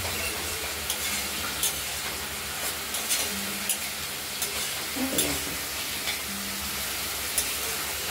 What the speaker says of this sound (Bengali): মশলাটা কষানো হয়ে গেছে প্রায়, তেলটা বেরিয়ে গেলেই কষানোটা শেষ হবে।